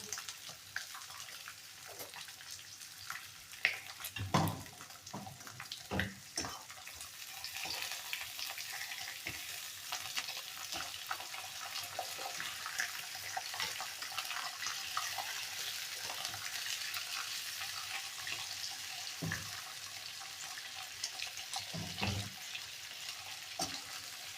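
Fresh pork frying in its own rendered fat in a pan, stirred as it browns for a kulesha supper; a soft, steady sizzle carries throughout, broken by a cluster of scraping, clattering stirs early on and a few more near the end.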